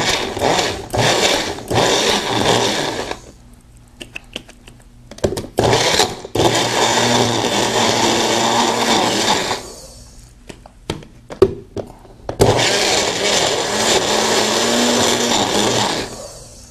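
A small blender mixing a drink right in its mug whirs loudly in several long bursts, broken by short pauses and a few clicks as it starts and stops.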